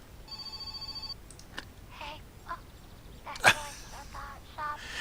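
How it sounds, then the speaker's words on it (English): A telephone rings inside the video game My Summer Car: a series of steady, evenly pulsed electronic rings in the first second, then scattered clicks and a person talking. "Oh, there's the phone."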